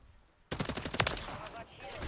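Rapid gunfire from an MCW rifle in Modern Warfare 3, a loud close burst of fast shots kicking in after a quiet start, with a voice talking over it.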